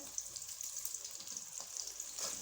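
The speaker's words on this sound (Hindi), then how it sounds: "अब इसको हम ब्राउन होने तक पकाएंगे।" Thickly cut onions frying in a pan for a chicken pasta dish, giving a steady close hiss and sizzle with small crackling pops and a brief stir, alone with no talking.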